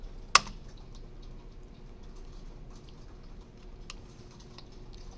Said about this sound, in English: sorry for the lots of typing